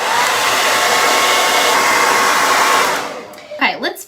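A hair dryer blows loud and steady at close range, drying paint on a gnome door hanger, then cuts off after about three seconds, followed by brief handling noise.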